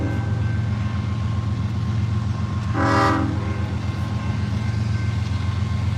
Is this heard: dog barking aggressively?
no